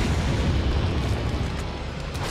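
A bazooka rocket blast from Resident Evil 4, a heavy, rumbling boom that stays loud for the whole short stretch and tails off only slightly.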